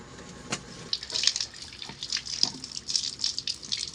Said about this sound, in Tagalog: itong mga aromatics natin guys, huhugasan muna natin yung bago natin hiwain